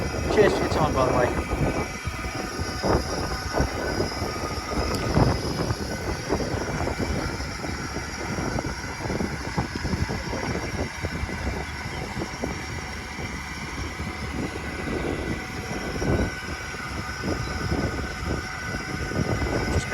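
The Fowler steam ploughing engine "The Mistress" works at a Romney Marsh ploughing match, a steady mechanical chug and hiss running continuously under people talking nearby.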